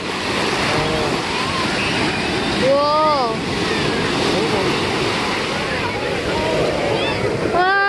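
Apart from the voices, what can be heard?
ocean waves crashing on beach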